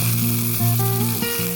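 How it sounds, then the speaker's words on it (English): Mustard seeds and curry leaves frying in hot oil for a curry tempering, a close, steady sizzle with a few brief shifts as the leaves settle, no voices. "frying some mustard and curry leaves and topping it onto the curry"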